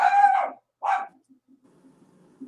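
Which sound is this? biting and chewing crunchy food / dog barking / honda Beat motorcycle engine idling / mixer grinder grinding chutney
dog barking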